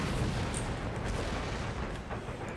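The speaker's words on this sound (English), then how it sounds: "Artillery's still trying to engage them though." Artillery cannons firing in Empire Total War, a steady rumbling barrage of distant booms blending into one continuous roar with no voices.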